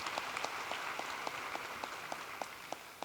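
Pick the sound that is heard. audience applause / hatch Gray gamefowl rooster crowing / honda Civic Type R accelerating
audience applause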